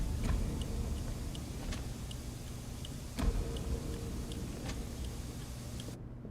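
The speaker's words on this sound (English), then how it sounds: "I can suddenly hear a very loud clock." A loud ticking clock in the Sunless Skies game, evenly spaced sharp ticks with one heavier knock midway over a low steady rumble.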